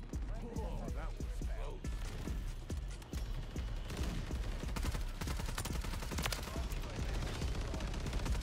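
Rapid machine gun fire in Call of Duty MW3 during multiplayer combat, with dense overlapping bursts and scattered shots running continuously at close range.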